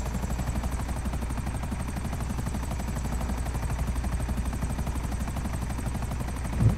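A helicopter's rotor chop and turbine whine in Grand Theft Auto V, steady rhythmic blade thumping continuous throughout and fairly close.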